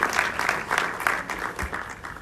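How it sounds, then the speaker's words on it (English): At a movie premiere in Ghana, the audience claps steadily for the mayor of Accra, a dense crowd applause with pulsing swells throughout a short stretch and no voices over it. "I'd like to acknowledge the mayor of Accra, who has just joined us, Mr. Mohammed Ajay-So. So give him a round of applause."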